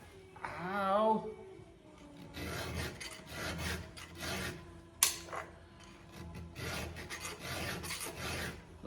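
A hand saw's teeth are sharpened with a file in a series of rhythmic rasping strokes close by, with a short pause and a sharp clink partway through.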